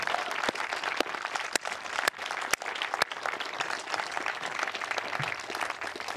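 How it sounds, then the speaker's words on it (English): Sustained applause from a large outdoor crowd for soldiers at an 11th Airborne Division change of command ceremony, dense steady clapping throughout with a few sharp louder claps standing out. "How about another round of applause for them there?"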